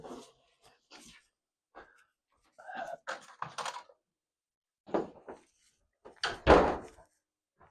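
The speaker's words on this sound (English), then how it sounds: "I'm going to shut my door real quick." A room door shut in a home during a spoken recording, with a few short knocks and a firm thud scattered between bursts of talk.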